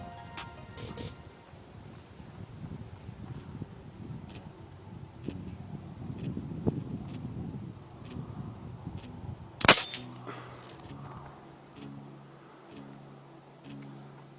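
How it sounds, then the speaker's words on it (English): Zbroia Kozak .22 caliber rifle fired at a target on a 50 meter range, with one sharp loud shot near the end after quieter handling noises. "One last shot on that target"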